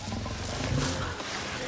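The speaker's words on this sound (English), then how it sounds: "There's a lion out there." A lion roars in a short, low, rumbling burst that rises and falls over under two seconds, heard alone without talk.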